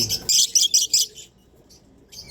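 Several bright chirps from small pet birds kept as gifts, close by, in a quick burst of short repeated calls, followed by near quiet and a faint final chirp.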